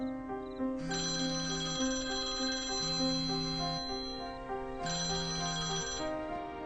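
A phone ringtone plays a repeating melodic tone pattern, two rings in quick succession, moderately loud and clear with nobody answering and no voices.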